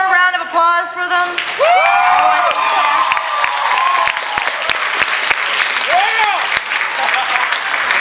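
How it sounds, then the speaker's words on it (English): An audience at an anime convention opening ceremony breaks into loud, sustained applause with scattered cheers and whoops, following a voice speaking over a microphone. "Let's hear one more round of applause for them."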